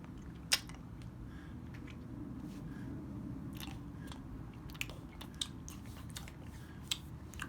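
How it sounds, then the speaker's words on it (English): Mexican candies being bitten and crunched close up, a few sharp cracks standing out over soft steady chewing, with no talk. "So you're supposed to just like suck on it, but with me, I like biting into it."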